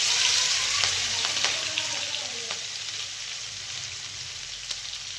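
Cumin, garlic, curry leaves and finely chopped green chilli sizzle steadily in hot oil for a vada pav filling, a dense continuous hiss with a few faint clicks, no voices.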